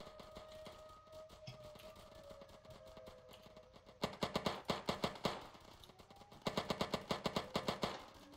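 Airsoft gunfire during an indoor team raid in a building with walls, heard as rapid bursts of sharp clicking shots in two clusters after a quieter stretch with faint distant pops.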